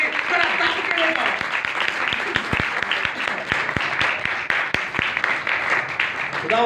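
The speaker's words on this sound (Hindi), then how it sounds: "एक बार जोरदार तालियां।" A crowd applauds loudly and steadily, dense clapping filling the space with a few sharper claps standing out.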